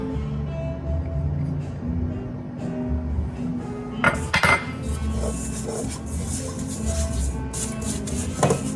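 Lemon biscotti dough with melted, cooled butter being mixed in a bowl, giving steady scraping and stirring with a few sharp utensil clinks against the bowl midway, close and moderately loud over a low background hum.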